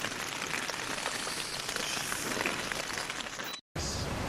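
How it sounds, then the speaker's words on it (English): Close, steady downpour drums hard on a surface in Kamchatka, a thick unbroken wash of rain that briefly drops out near the end before resuming. "it's been raining hard for 3 or 4 hours now"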